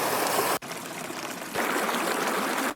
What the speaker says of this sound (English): It's a bubbly, watery downlifter made from actual recordings of water